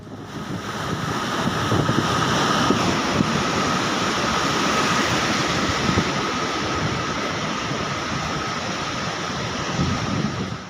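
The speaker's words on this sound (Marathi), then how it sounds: "पालखेड धरणाचे चौदाही गेटवरून धरणामधून आठ हजार चारशे बहात्तर क्युसेक पाण्याचा कादवा नदीपात्रात विसर्ग करण्यात आलाय" Water from all fourteen gates of the Palkhed dam pours into the Kadwa riverbed at about 8,472 cusecs, a steady, loud broadband roar of rushing water with wind buffeting the microphone and no voices.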